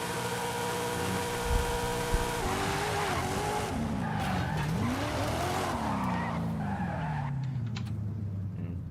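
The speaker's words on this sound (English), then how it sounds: "Let's do a large rev at the church." A car in the racing game Forza Horizon 5 howls and revs hard, its engine pitch rising and swooping amid tire screeches and skids, loud and continuous before easing off at the end.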